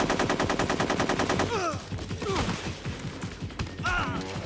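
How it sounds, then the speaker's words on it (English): An AK rifle fires in the video game Metal Gear Solid 3: a dense, rapid automatic burst sounds loud and close, then breaks into scattered shots and impacts mixed with other game effects. "I just love how an AK sounds when it's firing."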